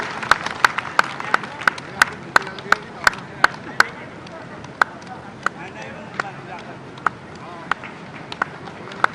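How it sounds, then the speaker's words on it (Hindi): Sharp, evenly spaced claps from an audience at a cheque distribution event ring out, quick at first and then thinning to sparse single claps, as a voice talks over them. "आप लोग तालियां बजाएं"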